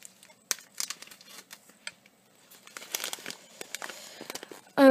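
A plastic sachet of tiny cylindrical beads is handled and pulled at, producing scattered close crinkles and crackling bursts with quiet gaps, ending in a short louder noise.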